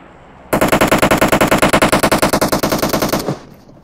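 Sustained automatic gunfire in the battle royale game PUBG, a rapid burst of around thirty closely spaced loud shots lasting nearly three seconds before stopping abruptly, heard alone without talk.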